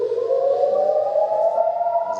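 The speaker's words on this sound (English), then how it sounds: "there's a siren" An air raid siren sounds during rocket fire in Israel amid war with Hamas: a loud, steady wailing tone that slowly rises in pitch and carries on without a break.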